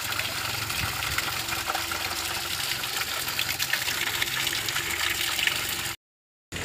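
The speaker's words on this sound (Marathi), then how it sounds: "किती छान पाणी या ठिकाणी आपल्याला त्या दगडातून निघताना दिसतंय" Small waterfall of water pouring out of broken stones at an old stone-quarry site, a steady, close rushing gush without pause that cuts off briefly near the end.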